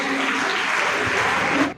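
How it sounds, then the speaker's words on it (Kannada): Loud, dense applause from a school prize-distribution crowd, steady throughout and stopping abruptly near the end. "ಜೋರಾದ ಚಪ್ಪಾಳೆಯೊಂದಿಗೆ"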